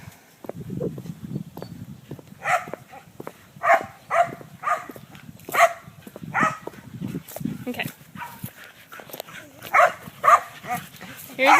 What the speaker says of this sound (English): The other dogs are in a huge